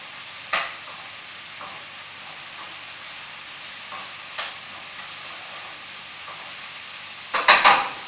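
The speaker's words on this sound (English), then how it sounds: "Move around the onions a bit. Get those cooking evenly." Onions fry in a pan with a soft continuous sizzle, broken by a few brief scraping stirs and a louder cluster of stirring clatter near the end.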